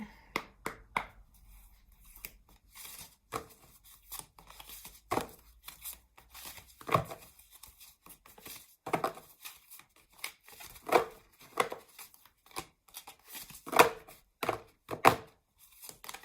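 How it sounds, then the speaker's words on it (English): Cards being shuffled in short bursts of snappy papery slaps and flicks, spaced out with pauses, close and fairly quiet. "Sorry, you're going to hear me shuffling."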